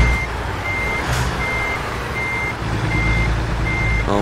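A tractor-trailer in American Truck Simulator backs up with a steady series of evenly spaced reversing beeps over a low, constant diesel engine rumble.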